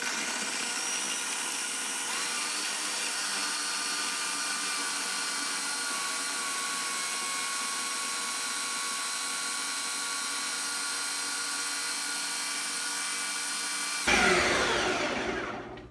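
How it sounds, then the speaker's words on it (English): A food processor blends frozen bananas for peanut butter nice cream in one continuous, loud, close whir lasting about sixteen seconds. It steps up in speed after a couple of seconds and shifts sharply near the end as it winds down. "we're just going to put it in the food processor. We're going to start on low and work our way up."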